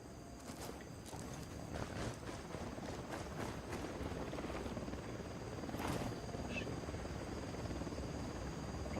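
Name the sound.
helicopter flying, from a video game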